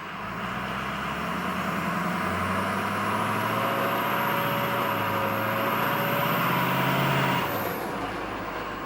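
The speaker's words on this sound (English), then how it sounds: "The turbo spool is literally so dumb on this." A big truck's engine rumbles steadily while its turbo spools up with a rising high whistle that climbs and holds, then falls away as the revs drop near the end; loud and close, with no voices.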